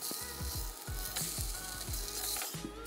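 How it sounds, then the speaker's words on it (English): Ahi tuna sears in a hot pan with a little oil, a loud continuous sizzle with crackling bursts and low thumps as the fish is turned over, no voices. "we're gonna start with a hot pan, a little bit of oil, and we're gonna sear our ahi lightly on every side."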